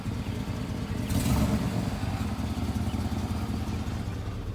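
Old Chevrolet Silverado pickup with a two-pedal automatic shifting into gear and pulling forward, a steady low engine rumble close by with a brief louder swell near the start, no talking.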